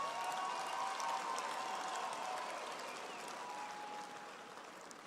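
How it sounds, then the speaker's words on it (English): Audience at a university graduation ceremony applauding, a steady, fairly quiet wash of many hands clapping in a hall, gradually fading toward the end. "I invite you to give a warm round of applause to your parents"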